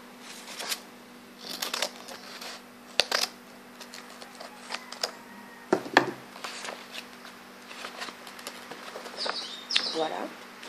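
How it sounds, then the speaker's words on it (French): Scissors cut open a paper tube during a recycled-paper pouch craft, making close, crisp snips and paper rustles in irregular bursts, with quiet pauses between the cuts. "Donc je vais l'ouvrir à ce niveau-là, avec les ciseaux."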